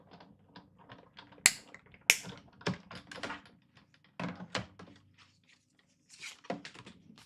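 A cutting machine works through paper to cut out a vase shape, giving a quiet run of clicks, taps and whirring mechanical movements with a few sharper knocks, close by and with no talking.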